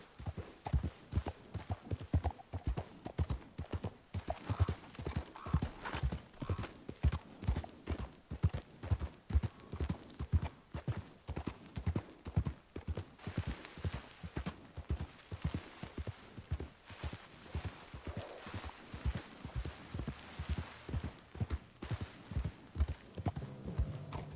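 A horse in Red Dead Redemption 2 gallops steadily for a long stretch, its hooves beating a fast, even clip-clop rhythm, close and continuous with no talk over it.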